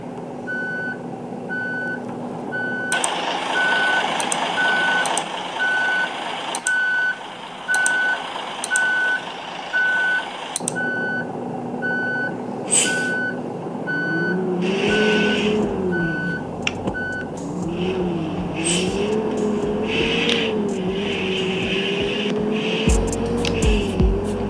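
Bus reversing beeps from a bus-driving mobile game, a steady evenly spaced electronic beep repeating for about seventeen seconds over engine hum, then a rising and falling engine drone as the bus moves off.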